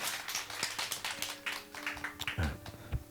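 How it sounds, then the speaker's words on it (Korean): Church congregation clapping at a Sunday service, a scattered patter of hands with a few sharper claps near the end, heard over faint hum and murmuring voices. "우리 박수 해주십시오."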